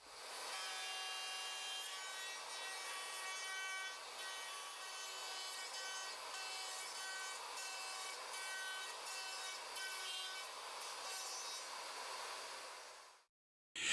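Router fitted with a straight bit and template guide bush cuts dovetail pins in wood on a Leigh D4R Pro jig, a steady high whine with rasping cutting noise running continuously for about thirteen seconds before stopping abruptly.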